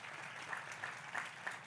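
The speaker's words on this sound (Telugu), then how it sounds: "ఒకసారి ఆవిడ చప్పట్లు కొట్టండి." A seminar audience at a Bible gathering claps briefly, faint and distant, as a soft, even patter with a few slightly louder claps.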